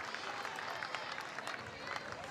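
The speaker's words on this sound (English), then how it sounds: "as they clap it up in the dugout" Softball players clapping together in the dugout during a college game between Florida and Mercer, a steady patter of hand claps blended with crowd noise and a commentator's voice.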